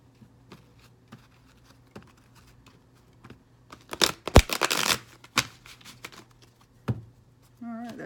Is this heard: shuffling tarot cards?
yes